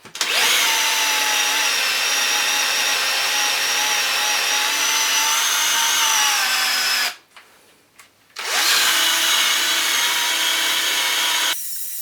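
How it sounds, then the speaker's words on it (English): A drill spins a FlexiPads decal eraser against an aluminum BBS RC wheel to scrub off sealant remains, a loud steady whirring grind that runs for about seven seconds, stops briefly, then resumes for several more. "I will try this FlexiPads decal eraser"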